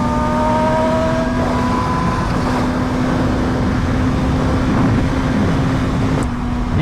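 A BMW HP4 Race motorcycle accelerates, its engine a loud, steady drone that holds a sustained tone for several seconds, with wind rushing over it and no speech.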